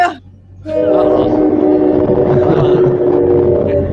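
A train sound effect plays loud and close, a sustained horn-like tone with rumbling rail noise that holds steady after a brief quiet start.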